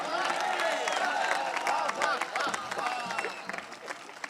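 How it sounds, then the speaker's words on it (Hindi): An audience at a Hindi kavi sammelan poetry gathering claps in a moderate burst that thins toward the end, with someone speaking loudly over it. "आपकी तालियां कमजोर है मेरे भाई"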